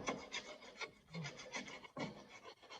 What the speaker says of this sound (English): obviously careful not to file too much, just filing the corrosion away